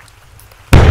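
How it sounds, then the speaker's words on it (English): Melon cannon firing in the video game Gorilla Tag: one sudden, loud, bursting boom that breaks a quiet near-silence and then holds as a broad, rumbling blast to the end. "Got a melon cannon."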